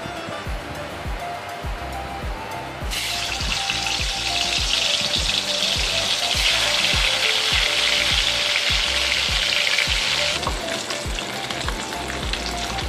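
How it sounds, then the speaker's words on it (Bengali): Pieces of katla fish fry in hot oil with a loud, steady sizzle that swells sharply after a few seconds, with repeated soft clicks and stirring taps underneath and no voices. "এবার আমি একে একে মাছগুলো দিয়ে লাল লাল করে ভেজে নেব"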